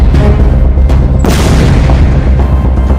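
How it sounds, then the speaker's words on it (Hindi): A loud, deep explosion from fighting in the Israel–Hamas war in Gaza, with a sharp onset about a third of the way in followed by a rumbling low-end roar that persists to the end. "चौथा धमाका"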